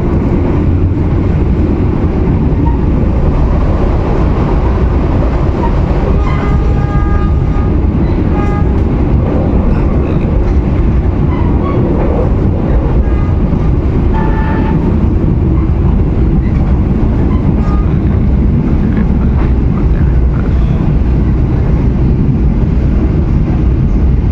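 The KA Ijen Ekspres rolls along the rails, a loud, constant rumble heard from inside the carriage with faint clicks and squeals rising and fading through the run.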